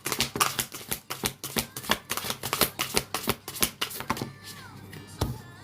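A deck of tarot cards being shuffled close by, a rapid run of crisp riffling clicks and flicks in an uneven rhythm, easing off toward the end with a final soft tap.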